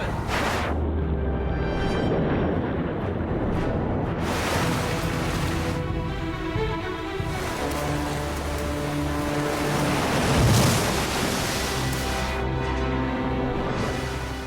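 Fast-flowing river torrent, a continuous loud roaring rush of churning water with broad surging noise and occasional stronger swells, close and unbroken, no voices.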